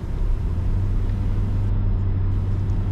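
Steady low road rumble from inside a Toyota Voxy Hybrid ZS cruising at around highway speed, a constant engine and tire drone with no speech.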